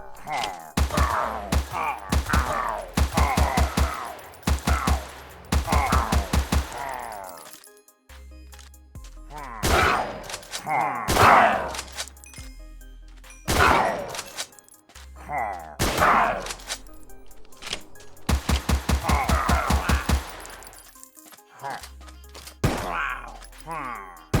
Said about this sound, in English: This gun is full auto and has low damage per shot.